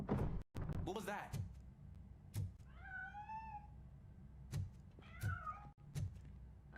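A cat meows twice in the video game RoboCop: Rogue City, two drawn-out rising-and-falling cries a couple of seconds apart, with dull thuds and knocks scattered around them.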